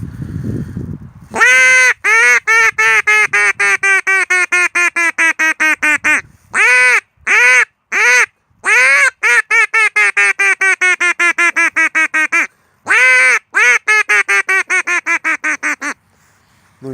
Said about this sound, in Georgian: ეს არის ასე რომ ვთქვათ, როგორ მოვიხმოთ იხვი შორი მანძილიდან